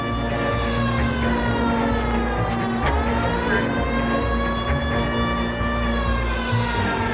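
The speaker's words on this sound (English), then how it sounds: "The siren's kind of annoying." A police car siren in L.A. Noire, a loud continuous wailing tone rising and falling over engine and road noise, running steadily throughout.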